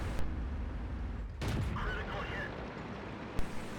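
A single heavy cannon shot from a T71 light tank in a World of Tanks match on Tundra, one booming report followed by a faint later thud, under a steady hum of engine noise.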